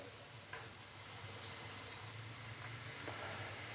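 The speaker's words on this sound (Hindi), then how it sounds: "अदरक और लहसुन के पेस्ट को हमने हल्का सा फ्राई कर लिया है।" Ginger garlic paste fries in a pan with a faint, steady sizzle and hiss, broken by a few soft stirring clicks.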